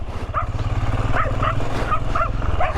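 A dog barks and yips in quick repeated bursts near a rural gate along the Carretera Austral, the sharp calls over a steady low engine rumble.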